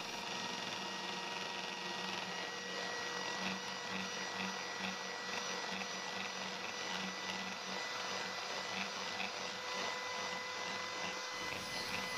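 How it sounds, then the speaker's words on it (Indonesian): Steady motorized whirring of an electric mixer whipping whipped cream powder with ice water, continuous and fairly even throughout, with no talking. "Kocok sampai whipped creamnya mengembang atau mengental."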